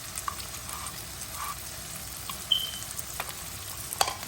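Onions and green chilies fry in a pan with a soft, steady sizzle, faint and close, broken by a couple of small pops and light scraping sounds.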